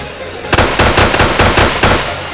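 Rapid bursts of pistol gunfire from the browser FPS game UnderFire: five loud sharp shot clusters in quick succession, close and punchy, with no talk over them.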